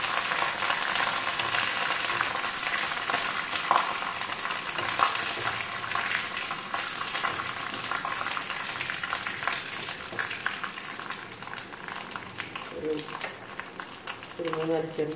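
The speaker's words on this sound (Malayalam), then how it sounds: "കടുക് പൊട്ടി തുടങ്ങിയിട്ടുണ്ട്, അതിലേക്ക് ഈ കരിവേപ്പില, ഉണക്കമുളക്" Mustard seeds popping in hot oil as curry leaves and dried red chillies go in for a quick mango pickle, with a dense, continuous crackling sizzle and a voice talking over it.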